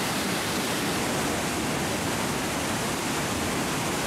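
Iguazu Falls pours down in a constant, dense roar of water, a broad unbroken rush with no variation and no voices.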